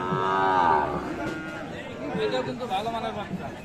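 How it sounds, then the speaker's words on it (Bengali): A Sahiwal bull calf moos loudly and drawn-out at a busy cattle market in Mymensingh, its long low call followed by background chatter and the noise of the crowd. "শাহিওয়াল ষাঁড় বাচ্চা।"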